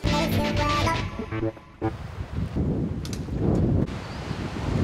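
Strong, gusty wind on a mountain buffets the microphone in a steady roar, with a brief lull partway through and faint tonal sounds early on.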